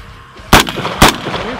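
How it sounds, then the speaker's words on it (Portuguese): Two sharp gunshots ring out about half a second apart at an Orlando shooting range, fired at metal targets; the loud cracks stand alone with a brief echo after each. "Dois tiros."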